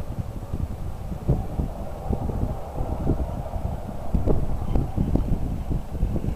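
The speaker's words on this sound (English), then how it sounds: "Here comes the wind again, up she goes." Gusty wind buffets the microphone outdoors while an arch kite launches itself, a continuous low rumble that swells and surges in uneven gusts.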